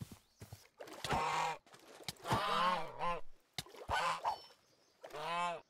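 A duck or goose honking in the Minecraft mod Parasite Craft, a series of several nasal honks at uneven intervals, fairly near and moderately loud.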